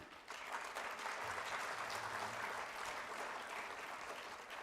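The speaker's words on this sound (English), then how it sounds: "Ladies and gentlemen, आपकी ओर से तालियों का साथ चाहिए" Sustained applause from an audience at a live ceremony for an energy-conservation event in India, dense and steady for the whole stretch with no talk over it.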